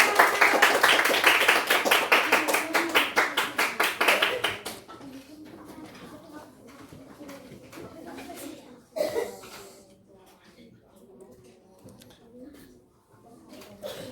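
Students in a classroom clap in a fast, rhythmic, unison pattern for a presenting group. The loud burst lasts a few seconds, then gives way to quiet chatter, chuckles and murmuring in the room.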